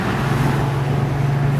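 A 2008 BMW M3 Convertible engine cruises gently at low revs, a loud, close, steady low rumble with an even droning tone and no talking.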